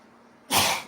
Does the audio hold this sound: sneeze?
yes